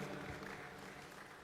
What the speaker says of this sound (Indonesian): tepuk tangan buat Pak Mangindaan